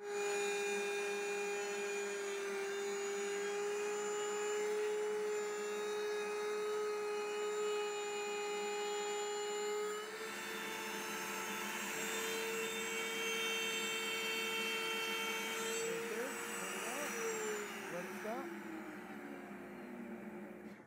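A router cuts a guitar neck angle in a jig, producing a continuous high whine with steady cutting noise that shifts partway through, then winds down as the motor slows and stops spinning.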